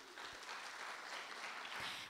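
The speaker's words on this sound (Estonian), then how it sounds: "Aplaus!" A brief burst of steady audience applause at a children's song contest, a dense even clapping that cuts off abruptly after about two seconds, fairly faint and distant.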